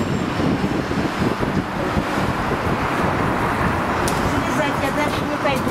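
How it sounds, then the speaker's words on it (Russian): Strong wind buffets the microphone in a continuous rough roar, with a faint rushing like surf in the background and no clear speech. "Ветер сильный."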